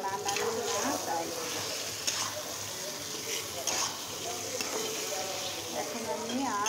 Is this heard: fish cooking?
yes